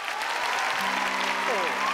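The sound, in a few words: audience applause for three contestants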